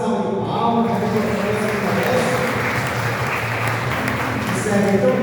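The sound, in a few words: audience applause at a church celebration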